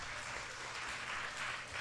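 Steady applause from a crowd at a school spelling bee, a continuous wash of clapping at moderate volume with no voices standing out.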